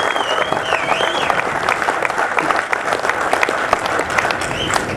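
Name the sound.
applause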